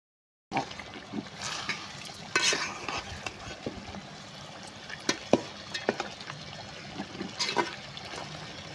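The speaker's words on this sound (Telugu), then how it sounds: "మంచిగా మిక్స్ చేసుకోవాలి." Biryani ingredients are mixed in a cooking pot with a spoon, soft scraping and stirring strokes over a faint wet sizzle, close but quiet, with scattered clinks and no talking.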